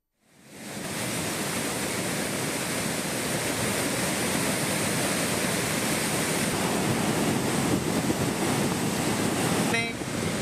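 Flooded Courtallam waterfalls gushing in a loud, dense, unbroken roar that swells up at the start and holds steady and close for the whole stretch.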